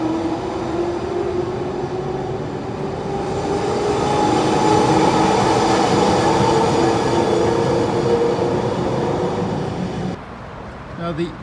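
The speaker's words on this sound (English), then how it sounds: "it has a pretty extensive public transportation system with trams" A Zurich tram passes in the city, a steady loud rolling rumble with rail hum that builds and holds for about ten seconds, then cuts away abruptly near the end, with faint voices around.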